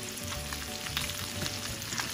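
Salmon chunks dry-frying in a pan give off a steady, soft crackling sizzle with light stirring sounds, continuous and fairly quiet throughout.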